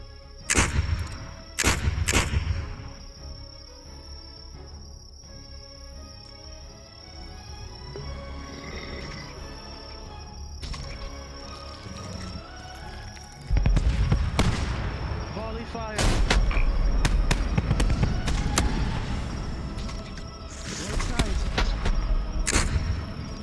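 Night killer rounds pound a palisade in a VRChat roleplay battle, with sharp gunfire-like cracks and booming bursts arriving in loud, irregular volleys over a dense, rumbling barrage.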